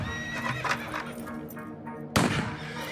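Panicked horses whinny and neigh loudly in several overlapping calls with some hoof clatter, ending in a sharp crack like a gunshot near the end.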